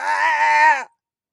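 A person mimics a goat's bleat with a single nasal, wavering call lasting under a second, up close and alone before falling silent.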